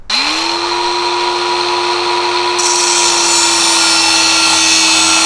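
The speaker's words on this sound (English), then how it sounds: "let's cut some tubing" A power tool spins up and cuts metal tubing for a turbo brace, holding a loud, steady high whine with a rough metallic edge for several seconds before cutting off abruptly.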